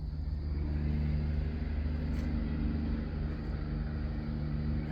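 A truck passes on a nearby highway at night, a steady low rumbling drone that holds at a moderate distance for several seconds with no voices.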